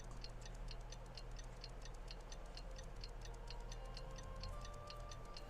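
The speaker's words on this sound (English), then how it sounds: "Ang tagal naman ng movement ng clock." A clock ticks steadily in Genshin Impact during the Windblume Festival, a regular run of crisp, evenly spaced ticks over a constant low hum, with no talking.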